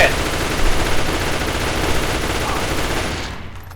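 Dense, continuous automatic gunfire rattles loudly through a video game firefight, a steady barrage of rapid shots that holds for several seconds before cutting off abruptly.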